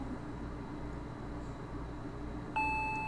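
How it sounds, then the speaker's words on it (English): Electronic doorbell chime in a Higurashi visual novel, a single bright tone that sounds abruptly and lingers as it fades, over a steady low background hum. "The doorbell rang again."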